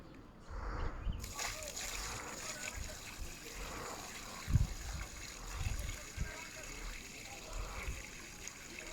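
Rainwater running and splashing through a roof gutter during a drainage flow test, a steady close trickling and sloshing with a few louder splashes, with faint talk in the background.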